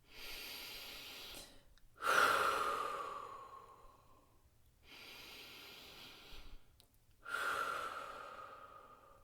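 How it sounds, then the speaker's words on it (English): Three slow, deep breaths during a relaxation exercise, each a long audible inhale followed by a drawn-out sighing exhale, close and quiet with pauses of near silence between them. "Deep breath. Let's do 3 of them."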